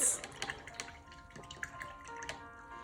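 A paintbrush rinsed in a water cup while painting a Christmas tree gives faint, close swishes and light splashing taps in an irregular rhythm, quiet and without talk.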